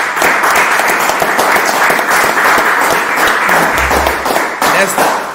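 Loud, sustained applause from a church congregation at a religious feast service, dense continuous clapping that fills the whole stretch without a break.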